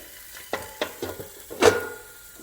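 Chiles rellenos burritos flipped in a hot pan: a few quick utensil scrapes and taps, then a short burst of sizzling, close and moderately loud.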